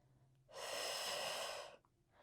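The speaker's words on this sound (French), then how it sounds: "J'expire, je monte." A single long, forceful breath out through the mouth during a Pilates abdominal exercise, close and breathy, lasting about a second amid quiet surroundings.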